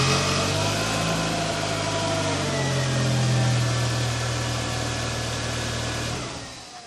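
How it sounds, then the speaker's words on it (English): A 2003 Volkswagen Jetta engine runs close by at a steady idle after fresh spark plugs go in, a smooth continuous hum that holds level before trailing off at the end. "we're gonna fire up the car just to make sure the spark plugs are good"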